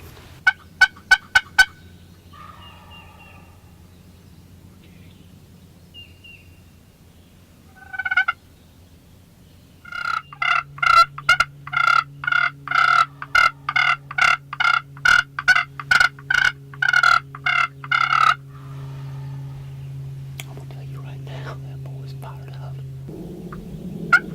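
Wild turkey gobbler in Tennessee gobbling repeatedly, a long run of loud, rapid bursts at close range after some fainter earlier calls, with low rumbling background and quiet whispering between.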